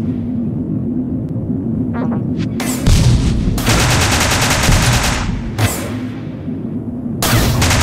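Vulcan cannon fire from a starfighter in Starfighter Infinity, loud sustained bursts repeated several times over a steady engine hum, with no talk.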